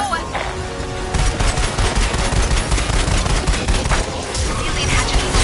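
Dense, rapid automatic gunfire in a sci-fi video game, loud and continuous across the whole stretch, with a steady rattling rhythm and no spoken voice above it.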